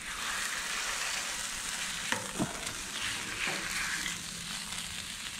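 Sausage sizzles steadily in a hot pan for an omelet, with a few scraping, smashing knocks as the meat is broken apart partway through.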